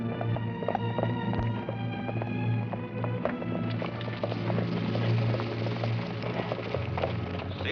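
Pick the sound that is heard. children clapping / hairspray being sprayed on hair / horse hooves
horse hooves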